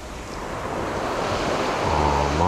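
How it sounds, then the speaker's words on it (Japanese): Ocean waves wash onto the shore of Ise Bay around high tide during a beach fishing outing, a continuous rushing surf mixed with gusty wind buffeting the microphone and swelling slightly louder toward the end. "ちょっとたまに波が吹くんですね。"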